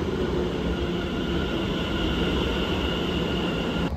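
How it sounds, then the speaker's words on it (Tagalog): A train pulls into a station, producing a steady low rumble with a sustained whine above it, evenly loud throughout. "Ayan na ang tren."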